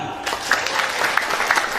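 A religious lecture audience claps briefly in a short, light patter of scattered hands that fades quickly.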